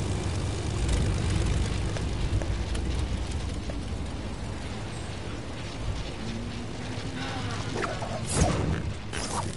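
Loud, steady propeller-plane drone from a late-game aircraft in a multiplayer shooter video game, filling the whole stretch with broadband engine noise and a brief louder burst near the end.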